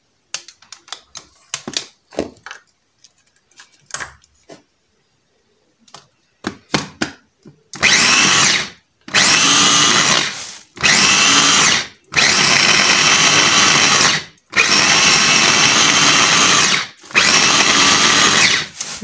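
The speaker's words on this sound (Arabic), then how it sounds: "نطحن كلشي دابا" A blender grinds barley soup ingredients with water, running in several loud bursts of steady whirring separated by short pauses, after a stretch of quiet clinks and taps.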